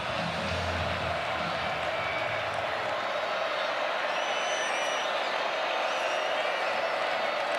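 A college football stadium crowd at the Clemson vs Wake Forest game rising on third down, a steady broad roar and cheer held at an even level for several seconds, distant and diffuse.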